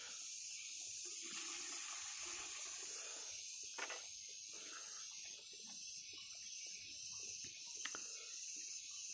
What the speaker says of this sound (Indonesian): Kita tambahin dulu airnya biar dipas-pasin nantinya.